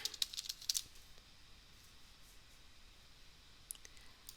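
Quick bursts of computer keyboard typing click sharply at the start, then give way to near silence before one last faint tap.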